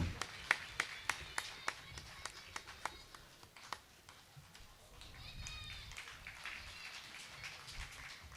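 Devotees clap for a guru puja at a Swaminarayan temple festival in Navagadh, Jetpur. Sharp, evenly spaced claps sound for the first few seconds and then thin out into a faint murmur of crowd noise and voices.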